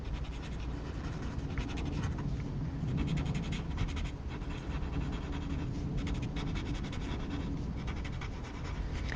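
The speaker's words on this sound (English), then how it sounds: "I'm kind of moving the graphite in almost a little X" Graphite pencil shading on paper in small crosshatched X strokes, a continuous soft, close scratching and rubbing with no voices.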